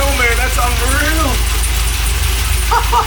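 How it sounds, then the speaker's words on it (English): A freshly swapped LS1 V8 in a 1978 Chevrolet Corvette idles on its first start with a loud, steady, choppy rumble close by, while an excited voice talks over it. "And it's idling!"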